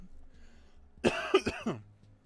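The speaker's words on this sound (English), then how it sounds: "I'll still be coughing a little bit." A short burst of a few rough coughs close to the microphone, with a throaty quality, after a stretch of quiet room hum.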